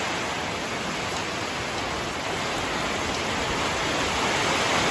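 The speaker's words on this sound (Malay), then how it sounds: "Hujan deras." Heavy rain pours steadily in a dense, unbroken hiss that stays loud and constant throughout, with no voices over it.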